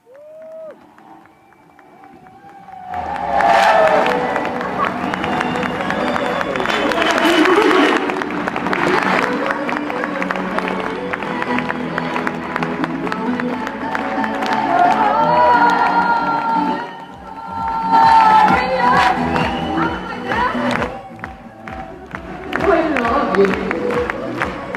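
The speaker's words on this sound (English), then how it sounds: "I want you to give a big, big applause to Pat Sandoman" Audience applause for a speaker being introduced at a morning event, sustained loud clapping and cheering from a crowd that swells and dips over about twenty-five seconds, with a brief quieter start.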